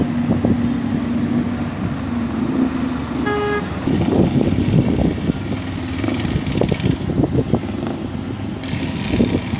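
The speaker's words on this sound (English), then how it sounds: "Where I see more traffic at this section than up in 3 Mile Square." Steady road traffic on Hagley Park Road near Marcus Garvey Drive, with loud engine rumble and wind buffeting the microphone. One short car-horn toot cuts through midway.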